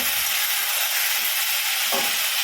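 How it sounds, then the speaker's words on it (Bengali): Cauliflower frying in a pan gives a loud, steady sizzle and hiss close up, unbroken throughout with a slight stir near the end. "এখন ফুলকপিটাকে সুন্দর করে ভেজে নেবো"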